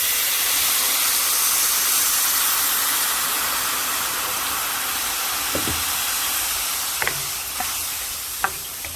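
A little liquid simmers and hisses in a hot pan with a salmon dish, a steady close sizzle and steam with occasional light clicks and taps toward the end.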